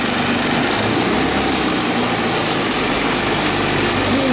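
Old barn find ATV engine running with the throttle set high, a loud, continuous, raspy drone with no pauses, heard up close.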